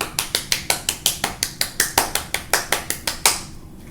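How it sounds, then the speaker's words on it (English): Hands clap in a steady, even rhythm, about sixteen sharp claps close by and at moderate volume, with no talking over them. "But I need you guys to clap as well"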